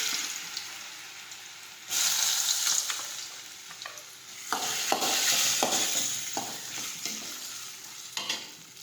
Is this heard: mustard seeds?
yes